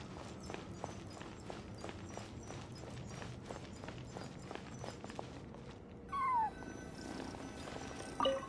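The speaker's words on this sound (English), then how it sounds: "I followed the cat's cries to find my way out" A cat cries in the video game Genshin Impact, played on PS5: a sequence of game meows and wails over a steady ambient bed, with a louder cry near the end.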